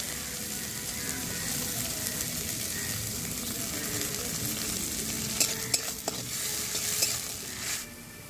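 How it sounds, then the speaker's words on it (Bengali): Chopped onions frying in mustard oil in a wok, a steady close sizzle with occasional stirring scrapes and small spatters, no talk. "দিয়ে সুন্দর করে লাল লাল করে পেঁয়াজটা আমি ভেজে নেব"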